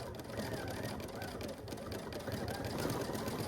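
A sewing machine stitches steadily while stippling quilted fabric with an Aveneer stitch regulator, producing a continuous close mechanical whir with a faint running hum throughout.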